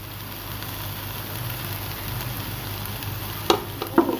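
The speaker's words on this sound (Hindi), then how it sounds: "बंद गोभी को भी हमने फ्राई करना है 1-2 मिनट के लिए ना।" Chopped cabbage stir-fries in a hot pan for chicken and vegetable fried rice, giving a steady low sizzle with a few sharp clinks of a spatula near the end, no voices.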